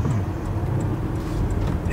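A Toyota Alphard Executive Lounge idles and creeps while steering at a self-service fuel pump, a steady close engine hum with low road-surface rumble throughout, no distinct voices.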